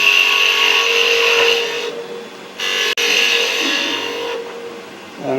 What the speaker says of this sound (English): I'll give it a nice little chamfer there, and then clean up the end grain